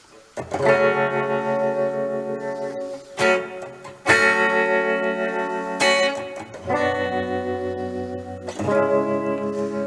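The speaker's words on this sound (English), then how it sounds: "I put some delay in and some reverb. It's like a room reverb." Reggae electric guitar chords ring out in several strummed bursts, each trailing with delay echoes and a roomy reverb wash before the next one.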